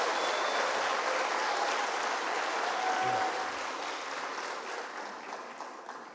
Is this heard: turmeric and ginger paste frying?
no